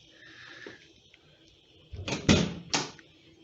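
An air-cooled Porsche 911 door creaks and clunks as it swings open after a door stay repair, a couple of solid mechanical thuds close by after a quiet moment.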